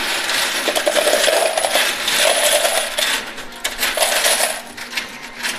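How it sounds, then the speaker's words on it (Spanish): Coins pour out of a slot machine payout tray, a loud, continuous metallic jingle and clatter in bursts over several seconds. "Uy, monedas al por mayor."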